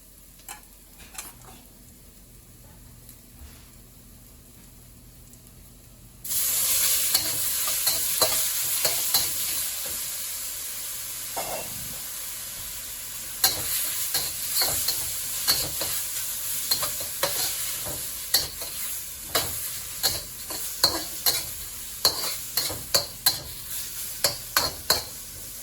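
Shrimp tipped into a hot pan and stir-fried for Chinese scrambled eggs: a sudden loud sizzle bursts in and holds steady, with repeated clacking spatula scrapes growing more frequent toward the end.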